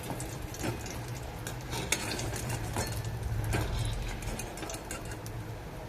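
Freshly fried crispy wheat-flour snacks are handled, making a dry, crackly rustle with scattered sharp clicks and light clinks, close and fairly quiet, with no talk.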